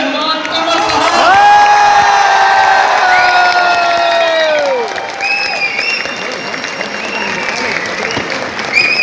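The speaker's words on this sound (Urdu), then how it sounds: "اپنی بھرپور تالیوں میں اپنے مہمان کا استقبال کیجئے" An auditorium crowd at a university event bursts into loud, sustained applause and cheering to welcome a guest, the clapping swelling and then easing slightly.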